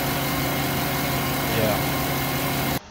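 An animated car's engine runs on nitrous boost: a loud, steady engine drone that swells briefly midway, then cuts off abruptly.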